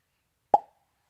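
Voice imitation of a wooden baseball bat striking a ball: a single sharp, hollow knock with a short resonant tail, heard alone against silence.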